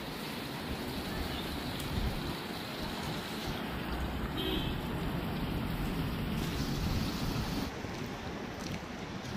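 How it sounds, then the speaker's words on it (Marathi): Water runs continuously from a cow-head spout at a temple, a steady, even hiss and splash with no breaks and no voices. "या गोमुखातून 12ही महिने पाणी वाहत असते."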